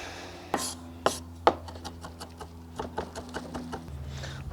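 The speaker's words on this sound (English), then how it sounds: "a pretty rough chop." A knife roughly chops garlic on a board in a run of sharp, close taps that are strong at first, then lighter and quicker, with a low steady hum behind them.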